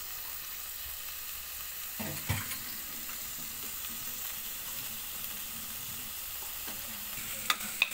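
A spatula scrapes and stirs pakbet vegetables sizzling in a pan, soft steady frying with a few sharp knocks and scrapes near the start and end, no talking.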